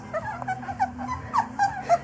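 Three-week-old brindle puppies whimper and squeak in short, repeated high cries, close by and fairly soft, with faint low background rumble.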